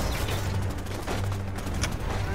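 Plasma cannon fire from a Predator in the Predator Hunting Grounds video game: loud continuous blasting bursts with sharp crackling hits and a low rumble throughout, no talk.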